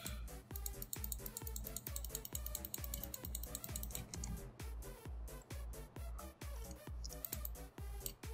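Rapid, steady clicking of a computer mouse and keyboard during a Farming Simulator 19 session, close and crisp with a dense, continuous rhythm of sharp taps.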